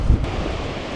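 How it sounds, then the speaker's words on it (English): Large ocean waves surge and crash against the Cornish coast near St Ives, a steady broadband roar mixed with gusting wind buffeting the microphone, continuous and loud with no voices. "The size of those waves."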